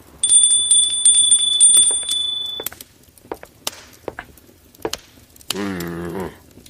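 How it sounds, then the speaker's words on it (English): A hand bell rung indoors at a podcast recording gives a bright sustained ringing for about two seconds. A few clinks and knocks follow, then a voice speaks briefly near the end. "Let me just ring the bell."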